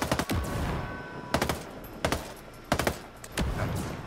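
A Gatling gun fires during a Titan Zeta raid boss fight in the video game Ghost Recon Breakpoint. There are five sharp, loud bursts of rapid fire with brief pauses between them.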